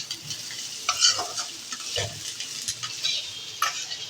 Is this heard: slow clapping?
no